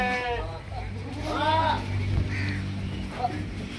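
An Ajmeri goat at a goat farm lets out a single wavering bleat, fairly close, while someone talks nearby and farm background noise continues.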